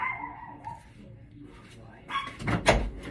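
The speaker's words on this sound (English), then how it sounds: "so he is barking at the door incessantly." A dog barks and yips at the door, several sharp, loud barks bunched toward the end after quieter whining, close by, with a voice heard early on.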